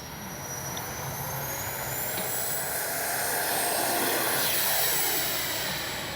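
A FlyFans SU-27 64mm electric ducted-fan RC model jet whines steadily overhead during landing practice, a continuous high-pitched rush that swells gradually louder as it passes, with no talking.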